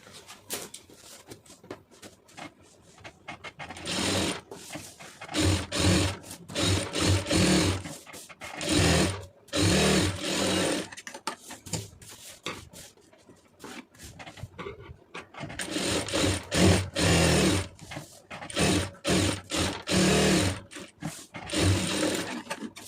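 Sewing machine stitching around the neckline of an aari blouse. It runs in bursts of rapid mechanical chatter separated by short pauses, close and moderately loud.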